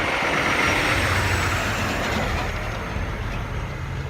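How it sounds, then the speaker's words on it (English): A loud FedEx delivery truck idles nearby in a mall parking area, a constant heavy rumble and broadband roar that stays steady and close throughout without any voices. "Next to some loud FedEx truck."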